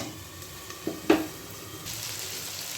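Ginger frying in a pan for khichuri, a soft steady sizzle with a few sharp spattering pops and a stirring scrape near the middle, fairly faint and with no talk.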